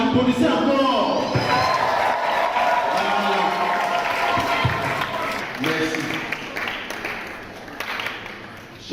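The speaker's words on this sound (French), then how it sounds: "Applaudissez encore." A congregation at a closing Mass of a Eucharistic weekend applauds in a dense, fairly loud clatter that thins out as someone speaks briefly over it.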